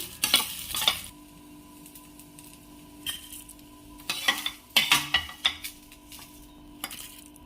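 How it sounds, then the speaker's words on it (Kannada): Sesame seeds and spices fry in a pan for tomato chutney, with repeated scraping stirs and clinks of a spoon against the pan over a faint, steady sizzle; no one speaks. "ಈಗ ಇದ್ರ ಜೊತೆನೆ ಸ್ವಲ್ಪ ಎಳ್ಳು ಹಾಕ್ತಾ ಇದ್ದೀನಿ. ಈಗ ಇದೆಲ್ಲ ಚೆನ್ನಾಗಿ ಫ್ರೈ ಆಗಿದೆ."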